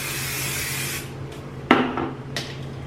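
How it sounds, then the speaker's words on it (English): Hairspray is sprayed from an aerosol can during a glueless wig install, heard as one short hissing burst of spray and a fainter second puff after it, close by with no talking. "and then I'm also going to spray my hairspray"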